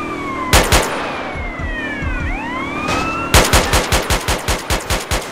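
Police gunfight in GTA San Andreas, with loud rapid gunshot bursts and an evenly spaced volley at the end, while a wailing police siren sweeps up and down underneath.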